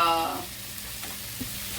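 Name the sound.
pork chop sizzling in hot pan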